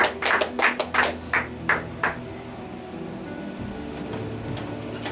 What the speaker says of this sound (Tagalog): At pumalakpak po tayo sa Panginoon.